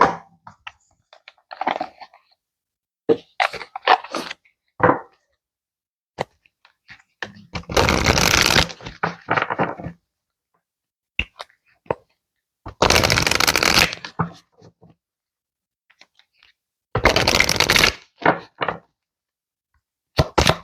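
A deck of cards is shuffled in three separate loud riffling bursts of about two seconds each, spaced several seconds apart, with quieter handling clicks and taps of the cards between them and no talking.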